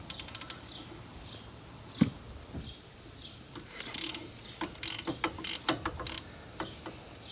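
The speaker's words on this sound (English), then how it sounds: "You might want to use something big for more leverage to break them loose." A ratchet works loose the 17mm caliper bracket bolts on a 2005 Honda Pilot, giving quick bursts of sharp clicking and metallic ratcheting between quieter pauses and a few clanks.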